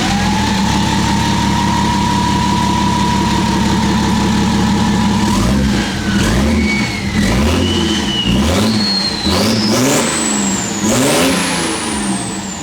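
A BMW X5d diesel engine fitted with a newly added exhaust pipe idles steadily at first, then is revved repeatedly in rising bursts that climb higher each time, loud and close with no talking.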